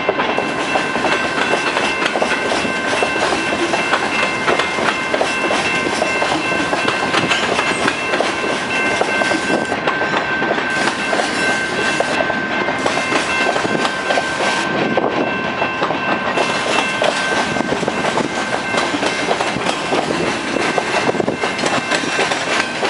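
A CN freight train rumbles past nearby at a railroad crossing in St. Lambert, Quebec, continuously, loud and steady, with rhythmic clatter of wheels on track and a faint tonal whine throughout.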